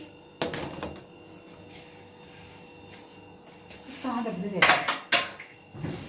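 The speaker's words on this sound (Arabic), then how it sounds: "الاطباق نظيفة، بس بغسلها، لازم تنغسل" Plates clatter and clink close by as they are washed in a home kitchen while Egyptian koshari is prepared, with sharp bursts near the start and again toward the end and a voice heard briefly.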